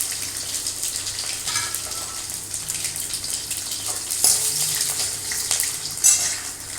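Crushed onion and garlic sizzle in hot oil with popping mustard seeds and urad dal, a steady broad hiss with a few sharper crackles near the end, close and alone.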